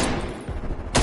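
A FAMAS rifle fires in Call of Duty Cold War, giving a dense burst of close, loud automatic shots over about a second.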